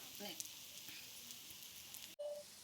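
Jackfruit dosa cooking in oil on a hot pan: a faint, steady sizzle and crackle throughout, with a brief clatter near the end.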